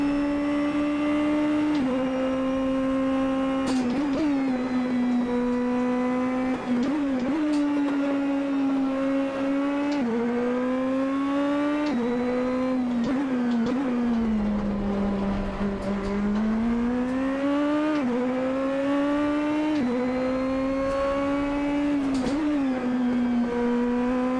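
A Super GT race car in the Assetto Corsa video game, lapping the Nordschleife with its engine held near full throttle; a loud, continuous high-pitched engine whine rising and dipping through brief gear shifts, with no talk.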